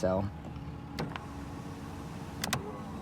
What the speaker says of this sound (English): the rear seats power recline